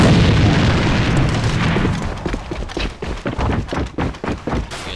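Heavy booms and explosions from the online shooter AVA open loud, then break into a string of sharp, rapid gunshot cracks, with no voices over the firing.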